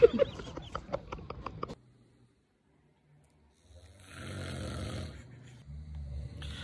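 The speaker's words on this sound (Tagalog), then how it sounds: "Hilik ba yun o karburador?" A short run of rhythmic, rasping snore-like pulses, then near silence, followed by a steady droning rumble that continues to the end.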